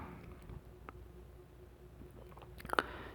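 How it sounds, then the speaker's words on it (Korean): Quiet close-up chewing and lip-smacking picked up on a microphone, soft wet clicks scattered over a faint hum, with a brief cluster of sharper smacks near the end. "콧소리도 막 콧김 소리도 막 들리고, 막 쩝쩝거리는 소리도 들리고"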